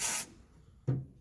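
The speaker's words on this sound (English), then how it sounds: "And just delicately spray" PB Blaster penetrant sprayed onto the moving parts inside the front door of a 1979 Lincoln Continental Town Car: a short, loud aerosol hiss at the start, then a quieter second burst close by.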